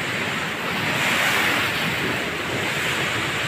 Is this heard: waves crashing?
yes